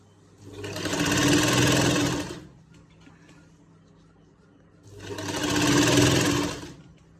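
An electric sewing machine stitches a lined shirt in two loud, close bursts of rapid whirring, each about two seconds long, separated by a quiet pause.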